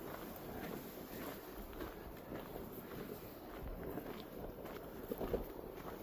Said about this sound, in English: It is a bit of a windy day and it does keep spitting